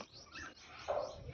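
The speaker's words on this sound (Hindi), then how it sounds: "बुलबुल यहाँ बैठी है और शोर मचा रही है" A red-vented bulbul sitting near its nest gives short, faint chirping calls, a quick scratchy burst in a quiet outdoor setting, heard softly from a slight distance.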